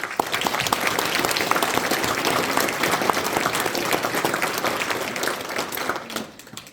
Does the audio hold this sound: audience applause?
yes